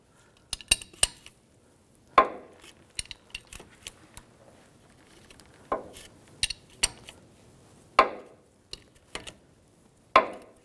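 Metal clanks and taps from an adjustable wrench loosening a fitting while replacing the 4WD actuator on a 2014-2018 GMC Sierra 1500 5.3L V8, with scattered sharp knocks and a few louder ringing hits, close and without talk.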